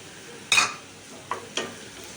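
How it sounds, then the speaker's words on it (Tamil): Chopped ginger sautés in a pan: a faint sizzle with three quick scraping stirs of a spatula, the first one loudest. "இஞ்சி வந்து பச்சை வாசனை போக ஒரு ஒரு நிமிஷம் நல்லா வதங்கிக்கிட்டோம்"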